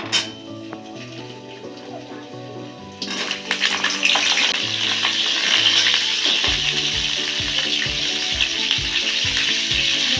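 Pointed gourd dropped into hot oil in a wok, starting quiet before bursting into a loud, dense, bubbling sizzle that continues steadily, close and alone.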